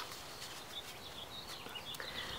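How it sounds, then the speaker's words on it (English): Birds sing and chirp outdoors in scattered short calls, moderately near, over a soft background hiss of open air. "Can you hear those birds?"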